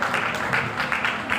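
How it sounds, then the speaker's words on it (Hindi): An audience at a poetry recital applauding to welcome a local MLA, with brief, fairly loud, continuous clapping from a crowd. "एक बार तालियों से उनका आप स्वागत करें।"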